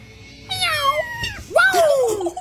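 Cat meowing in a meme, two drawn-out, wavering cries one after the other, loud and close over a low background hum.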